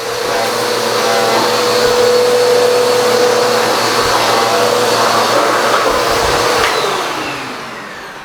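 A Bissell AeroSwift vacuum cleaner runs close by with a loud, steady whine and airy rush. The motor holds an even pitch, then eases slightly near the end.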